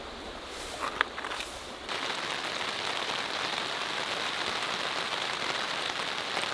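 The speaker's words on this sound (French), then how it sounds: "Ça y est, il pleut." Rain falls steadily on the surroundings during a packraft trip on the Drôme river, a soft, continuous patter that thickens after a few seconds and then holds at an even, moderate level with no voices.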